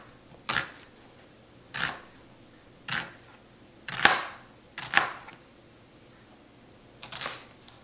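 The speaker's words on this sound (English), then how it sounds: "I have 2 onions that I'll slice" A knife slices through onions on a cutting board with six crisp, separate chops spaced about a second apart, each sharp and close, over a quiet background.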